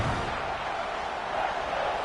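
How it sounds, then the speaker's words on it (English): Crowd noise at a Clemson college football game swells during a red-zone defensive stand, a steady broad roar of many voices with no talk over it. "And the crowd coming to life here"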